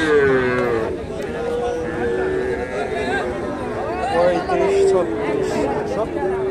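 A Friesian cross bull at the Hasokhali cattle market in Bogura lows in long, drawn-out moos, heard over a constant crowd hubbub and nearby chatter.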